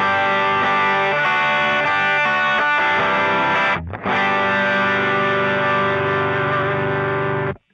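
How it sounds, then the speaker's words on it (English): Dry electric guitar patch with distortion and no delay, played as sustained chords that ring loudly, briefly cut off near the middle before resuming and then stopping abruptly. "Without the delay pedal, it sounds like this."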